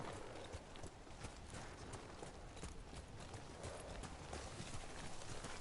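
Rapid clip-clop of horse hooves running in the video game Ghost of Tsushima, steady and fairly loud, layered with a dense rumbling background throughout.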